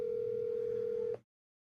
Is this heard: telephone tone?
yes